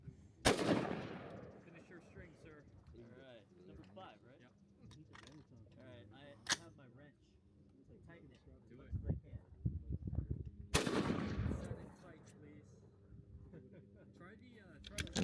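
Rifle shots at a 600-yard shooting match ring out as sharp, loud reports, a few spaced seconds apart, with people talking and shuffling around the firing line between them.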